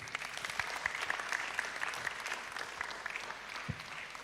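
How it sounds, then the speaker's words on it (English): An audience at a church hangout event gives a steady round of applause, dense and sustained clapping from a crowd filling the room, moderately distant and even in level throughout. "a round of applause for him."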